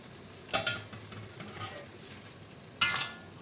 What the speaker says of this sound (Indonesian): boleh kita masukkan mi sanggul yang rendam selama 15 minit